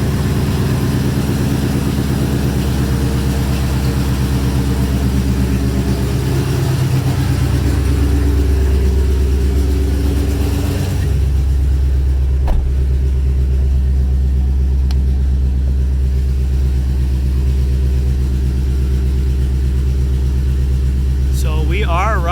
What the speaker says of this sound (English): I got no mufflers on, so she's running long tubes with straight pipe, so she is loud